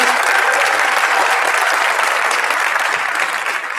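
An audience at a school district awards ceremony applauds its finalists and winners, a full, even roar of clapping throughout that fades slightly at the end.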